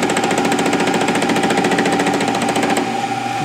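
A machine tool cuts a cam profile for a model internal combustion engine, giving a rapid, even chattering rhythm of metal cutting that stops abruptly near the end, leaving a fainter hum.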